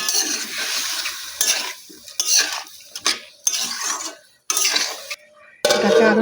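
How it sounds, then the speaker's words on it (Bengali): Bean and potato curry is stirred in a pan right after water goes in, with bursts of loud sizzling and spoon scraping separated by short pauses, close up and without talk. "পানিটা দিয়ে এটা ভালো করে মিশিয়ে নিই।"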